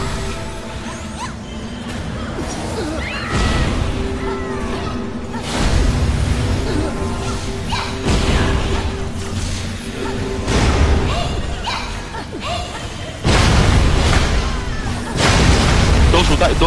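Cannons in an online fantasy clan war battle boom repeatedly in heavy bursts, dense crashing impacts layered under players talking throughout.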